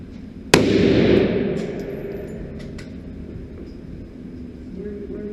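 A single loud gunshot at an outdoor shooting range, a sharp crack followed by a long decaying echo, with faint background noise afterward.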